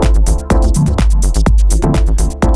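Eurorack synth track with an LFO sweeping filter cutoffs from left to right, a loud, dense electronic groove with punchy rhythmic bass hits and bright pulsing tones, played alone.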